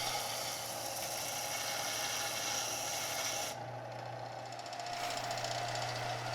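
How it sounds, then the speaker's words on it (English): Harbor Freight belt sander shaping a knife handle: a steady, loud, continuous abrasive rasp and motor whine that carries on alone, with a brief change in tone partway through as the contact shifts. "They say you're not supposed to use this part of the Harbor Freight belt sander as a contact wheel"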